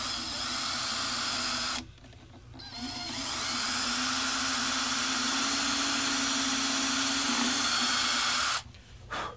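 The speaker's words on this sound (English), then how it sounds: "Eighth inch drill bit, I'm going to put in the pilot hole." A power drill with an eighth-inch bit bores a pilot hole into the wooden back of a mountain dulcimer, a loud steady whirring hum that runs for several seconds between two short stops.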